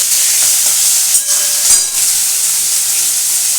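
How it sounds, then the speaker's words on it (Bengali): Mutton curry hisses and steams loudly in a pan as it is stirred, a dense continuous sizzle with a couple of brief scraping shifts. "এবার এইটাকে আমি একটু ভালো করে নাড়াচাড়া করবো"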